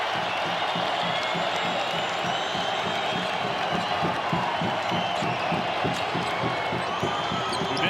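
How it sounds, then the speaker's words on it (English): College basketball arena crowd at a New Mexico versus Nevada game roaring and clapping steadily, with rhythmic claps and ball bounces under the constant cheering, loud and close throughout. "Lucas imploring the crowd to get into it,"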